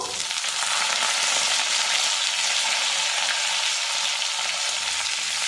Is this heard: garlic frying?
yes